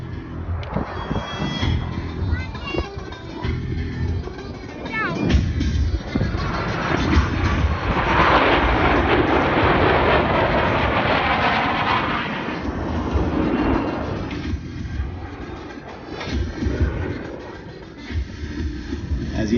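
Blue Angels jets flying a low brake cross maneuver at an air show, a loud sustained jet roar that swells to a broad peak mid-pass and then recedes as the aircraft split away.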